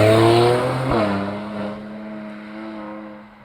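Mercedes C43 AMG engine blips as it downshifts into a hairpin corner, loud rising rev tones dropping sharply with a quick gear change, then easing into a fading, steady drone.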